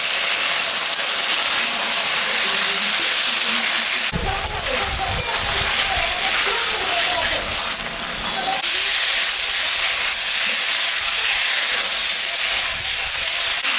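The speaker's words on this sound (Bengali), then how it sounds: "এখন আমি মশলাটা দিয়ে দেবো। আদা, জিরা, শুকনো লঙ্কা সব বাটা।" Ground ginger, cumin and dried chilli paste fry loudly in a pan for a rohu fish curry. The hiss is a strong steady sizzle with a rougher, stirred stretch in the middle, and no talk.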